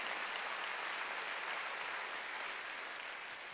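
Steady applause from a church congregation during a Wednesday worship service, a dense even patter of many hands clapping throughout, alone without talk.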